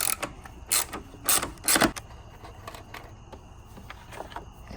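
A 10 mm clamp bolt being loosened on the battery hold-down of a RAM 1500 pickup: several short ratcheting clicks and creaks close by, with a few brief louder bursts, then softer clicking.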